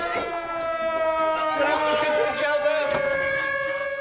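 An air raid siren wails steadily with layered, sustained tones from a wartime coal-mining household setting in Wales, a loud continuous warning blast that fills the scene and holds without pause.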